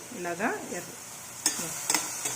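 Garlic sizzles in a pan while frying for a chillukura (chilli-leaf) roti chutney. There is a steady close hiss with a few sharp pops and stirring clicks, after a brief voice-like sound at the start.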